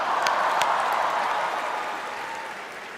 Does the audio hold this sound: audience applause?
yes